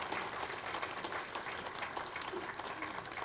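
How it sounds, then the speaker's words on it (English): Audience round of applause at a Vietnam Veterans Day program, a steady, lively patter of many hands clapping at moderate volume throughout. "Round of applause here."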